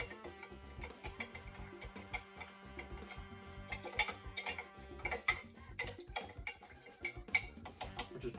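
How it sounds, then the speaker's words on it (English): A spoon stirs a gin old fashioned in a glass to break up sugar, giving soft, irregular clinks and ticks of metal against glass, close and quiet with no talk. "Stir this up just a little bit."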